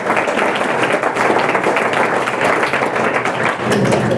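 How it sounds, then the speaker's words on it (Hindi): Students in a school classroom clap together in a dense, continuous burst of applause lasting a few seconds, loud and close, with no talking over it. "ताली बजा दो एक बार।"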